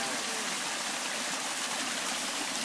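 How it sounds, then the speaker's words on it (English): Irrigation water in Konso, Ethiopia, is released through an opened channel rim and pours down to a lower farm terrace, giving a steady, loud, close rushing flow without pause and without talk. "here they've just opened another rim in order for the water to flow to the lower terrace"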